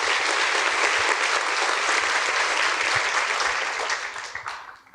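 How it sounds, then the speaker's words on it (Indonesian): Sustained applause from a studio audience at a talk event with a film documentary director, dense and steady clapping that fades toward the end. "Kita berikan aplaus ya untuk Grace."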